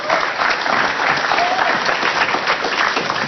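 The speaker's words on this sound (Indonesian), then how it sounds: "Silakan tepuk tangan sekali lagi dong untuk Mbak Pia dong." A studio audience at a television talk show gives loud, sustained applause, dense even clapping filling the room from start to finish.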